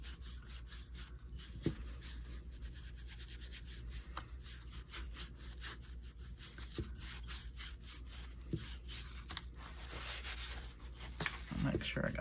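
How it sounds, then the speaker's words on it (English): Clear Fusion wax rubbed by hand onto a painted pumpkin: a soft, steady, close scrubbing texture that stays faint throughout, with a few brief scuffs along the way. "now I'm going to put some clear wax on it, and I'm using the Fusion."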